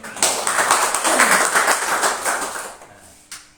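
A church congregation applauds, a dense wash of clapping that rises quickly, holds for a few seconds, then fades out.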